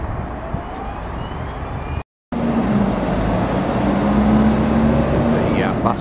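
Buses idling and moving around the Garden City bus interchange in Brisbane on a Sunday, a steady low engine rumble with a rising tone from a passing bus, briefly cut out, with a voice talking over it.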